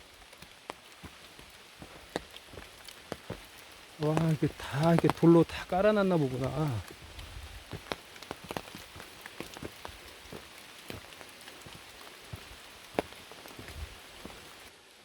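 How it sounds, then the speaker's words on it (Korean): Light, steady rain pattering on surfaces outdoors in the mountains, with scattered drips throughout and a person talking briefly in the middle. "산에서 듣는 빗소리"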